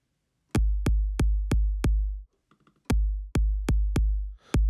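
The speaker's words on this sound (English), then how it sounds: "That's just like initialized kick." An initialized kick drum from the Kick 2 plugin thumps in a steady repeated rhythm, deep and punchy, with five hits, a short gap with faint clicks, then four more hits.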